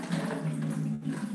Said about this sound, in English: the water is free flowing